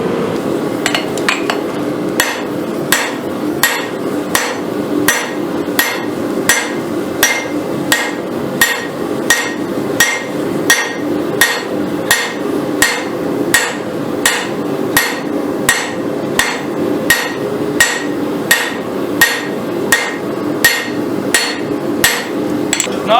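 A hammer forges a railroad spike into a clip point Bowie knife blade on an anvil, ringing out in loud, close, evenly paced metallic blows that repeat steadily throughout.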